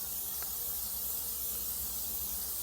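Cooking spray hisses onto the grates of a Shirley Fabrication 24x60 straightback smoker, a steady, faint, continuous aerosol spray lasting the whole moment.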